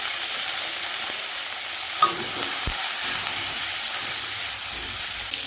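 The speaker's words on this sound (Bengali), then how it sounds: "ফুলকপিগুলো ধুয়ে কেটে নিয়েছি, এবার ভেজে নেব।" Oil sizzles steadily in a pan as cauliflower fries, with a small clink of a utensil early on; no talking.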